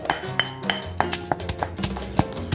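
Crisp grilled fish being pounded in a mortar, giving a quick run of sharp clinking, knocking strikes at an uneven rhythm, close and fairly loud with no talking.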